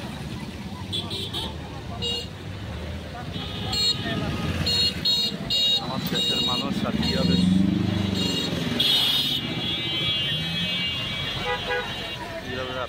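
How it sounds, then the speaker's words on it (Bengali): A jammed city road is crowded with vehicles, and repeated car and motorcycle horns toot over a steady roadway rumble while someone talks close by. "এই বর্তমান রাস্তার পরিস্থিতি এই হলো জ্যাম"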